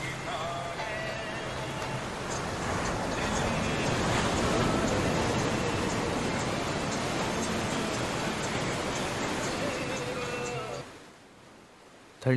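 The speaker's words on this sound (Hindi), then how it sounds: "ठंडी सरसराती हवा, गुजरती हुई बेचैन लहरें और दूर तक फैला हुआ सन्नाटा" Ocean waves roll in and wind blows at Shrivardhan beach, a broad, steady wash of surf that holds for about eleven seconds and then drops away to near quiet.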